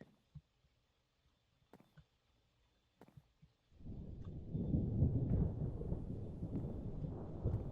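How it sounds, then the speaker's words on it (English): A few faint taps and clicks, then a deep rumble of thunder rolls in and keeps growling low and steady, in the video game Minecraft. "I hear thunder."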